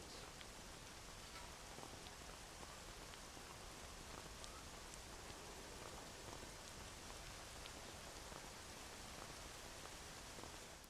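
Steady, dense rainfall in the video game Red Dead Redemption, a continuous even hiss of drops on surfaces with no talk over it.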